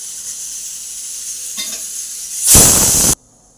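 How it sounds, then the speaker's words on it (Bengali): Ridge gourd curry in a pan gives a soft hiss, then a loud burst of sizzling as it is stirred for about half a second before cutting off abruptly into quiet. "এবার তরকারিটা ভালো করে নেড়ে সমান করে আমি রেখে দিলাম"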